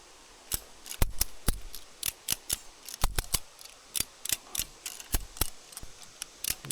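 A motorcycle lift jack is cranked by hand under a 500 lb bike, giving a run of sharp, close ratcheting clicks in an uneven rhythm, some single and some doubled, with nobody talking.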